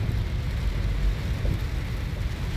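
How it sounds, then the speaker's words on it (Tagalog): Rain heard from inside a car driving on Airport Road in Pasay City, a steady broadband wash with low road rumble throughout, no talking. "inuulan tayo mga ka-drive"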